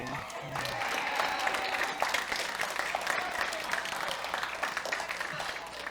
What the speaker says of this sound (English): I think there were only dudes that clapped for you